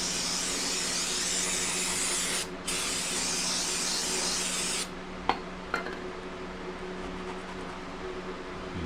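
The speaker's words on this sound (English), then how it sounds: "We'll see if the old trusty brake clean will do the trick." Aerosol brake cleaner sprayed onto thick oily grime on engine parts of an LS-swapped rat rod, two long loud close hissing bursts with a short gap between them, then a few clanks and quieter shop background.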